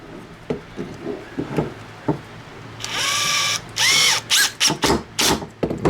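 A power drill drives screws into a dust extractor attachment on a VEVOR pocket hole jig, with several short whirring bursts of rising pitch, close and loud, after quieter clicks and handling noises.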